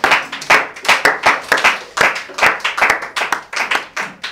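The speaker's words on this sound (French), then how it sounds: "Acclamons pour la parole du Seigneur" A church congregation claps together in steady rhythmic applause, loud and close, with beats landing in an even pulse and no speech over it.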